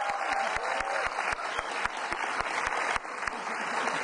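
Audience applause greeting a guest joining the table on the Indonesian TV talk show Mata Najwa, steady clapping throughout with crisp individual claps standing out near the front.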